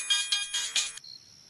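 A phone ringtone plays in bursts of bright electronic tones for about a second, then drops to a quieter steady tone, loud and alone without talking, in a Hindi 3D cartoon horror setting.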